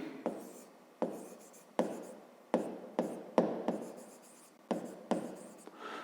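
A pen writes out a fifth-grade maths solution on paper in a quiet, steady run of short strokes and taps, each beginning with a small knock and fading quickly.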